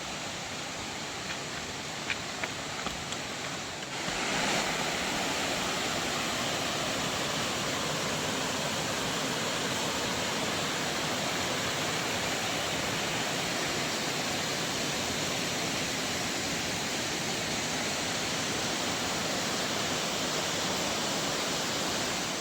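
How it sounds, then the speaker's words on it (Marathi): A seasonal monsoon river near an old village temple rushes steadily, a loud continuous broadband roar of flowing water that runs unbroken throughout. "आता ही फक्त पावसाळचीच नदी चालू असते"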